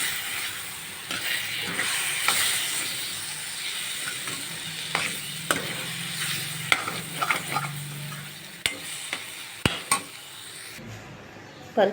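Tamarind extract simmers in a spiced bitter gourd curry in a pot, giving a steady low bubbling and sizzle with scattered clinks of a spoon against the vessel.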